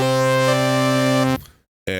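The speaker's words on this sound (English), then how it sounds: "This is the sound of the Prolog." Sustained synth chord from a Korg Prologue waveform modeled in Omnisphere, rich harmonic tone holding steadily, then cutting off into silence before a new chord starts abruptly.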